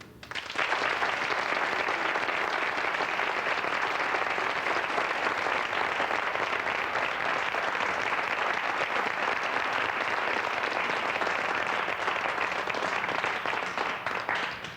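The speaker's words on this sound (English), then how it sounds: "Now, what are you clapping for?" A studio audience on a talk show claps steadily and evenly for about fourteen seconds, a continuous dense wash of hands with no voices over it.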